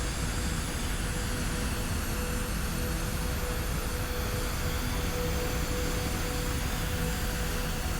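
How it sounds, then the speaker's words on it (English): Small jet aircraft in Kerbal Space Program 2 flying steadily, a continuous broadband engine roar with a faint whine holding level throughout, no voices. "This little jet really is kind of fun to fly."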